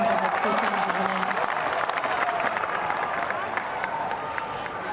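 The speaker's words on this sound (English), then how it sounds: "Crowd enjoyed that decision from Hawkeye." Tennis crowd at Wimbledon breaking into applause and cheers after a Hawkeye line-call decision, a dense, steady wash of clapping held at an even, fairly loud level throughout.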